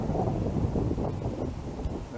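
Strong gale-force wind buffets the microphone on the Pentland Hills near Edinburgh during a run, a continuous loud roaring rush that fills the whole clip without pause.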